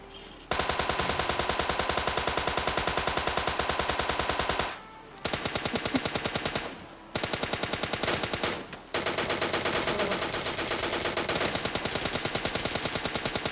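A Tommy gun fires in long, rapid automatic bursts during a battle royale video game, each burst a dense rattle of shots broken by short pauses, loud and close.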